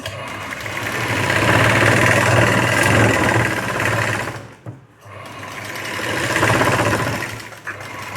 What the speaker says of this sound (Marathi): तर आता आपण इथे शिवून घेऊ